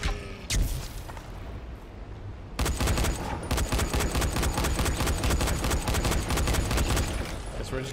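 Rapid gunfire from the zombie video game Dying Light: The Following, a short burst and then a long, dense, steady stream of loud shots.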